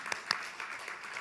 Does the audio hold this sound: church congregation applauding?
yes